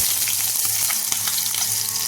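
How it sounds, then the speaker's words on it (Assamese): Onions added to hot mustard oil with panch phoron in a kadai sizzle and crackle, a dense, loud, continuous hiss with small popping bursts, close up and with no voices. "তাৰ পাছতে এয়া পিঁয়াজ দি দিছো"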